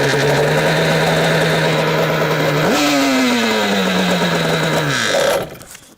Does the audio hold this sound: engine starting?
yes